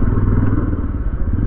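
A 2022 Yezdi Roadster motorcycle rumbles loudly and steadily up close while riding in traffic, its engine a continuous deep drone with no speech.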